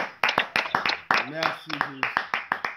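Church congregation clapping in a steady rhythmic beat, close and loud, while a preacher speaks over it.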